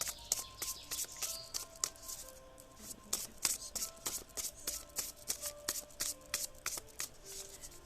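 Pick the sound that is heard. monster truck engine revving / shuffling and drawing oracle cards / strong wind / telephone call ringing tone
shuffling and drawing oracle cards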